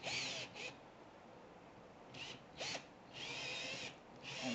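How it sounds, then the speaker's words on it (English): Power drill boring a bit through a wooden cigar box guitar body, whining in several short bursts with pauses between, close and fairly quiet, no talking. "And drill all the way through."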